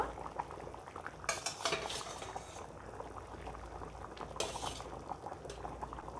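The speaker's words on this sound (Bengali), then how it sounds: "এই তরকারি ফুটে ওঠা মাত্রই মাছগুলো দিয়ে দিলাম" A pot of taro and fish curry bubbling at a boil, soft continuous burbling with a couple of brief louder clinks or stirring bursts, fairly quiet and close.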